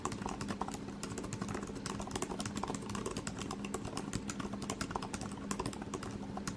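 Fingers type steadily on an Apple Magic Keyboard, producing quick, soft, closely spaced key taps in a continuous quiet rhythm, near and without speech.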